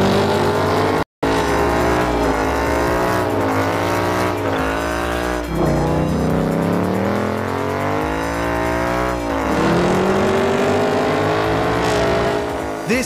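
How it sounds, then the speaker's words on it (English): A Ford Mustang, a roughly $46,000 car, doing a burnout: a loud, sustained engine roar with shifting revs and squealing tires runs almost nonstop, broken only by a brief cut near the start. "we're here for the cowboy science, which means burnouts."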